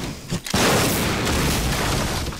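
A grenade explodes in the video game Call of Duty, a sudden loud boom after a brief lead-in that swells into a broad, sustained roaring blast filling the rest of the moment, close and dominant, no speech.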